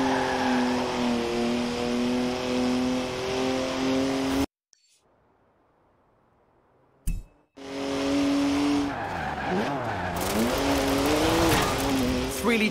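A rear-wheel-drive BMW with a three-litre twin-turbo straight-six slides sideways in Forza Horizon 4, engine revving loudly with tyre squeal, cutting to near silence midway before the engine and screeching tyres roar back, rising and falling.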